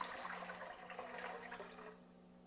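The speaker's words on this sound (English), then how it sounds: "We're going to go ahead and add 8 cups of water to this pot." Water poured from a container into a cooking pot for shrimp stock, a quiet rushing splash that fills steadily and then stops abruptly, leaving near silence.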